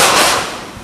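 A single 9mm pistol gunshot at a firing range, one loud sharp crack up close with a short decaying tail.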